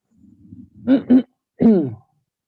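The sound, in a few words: throat clearing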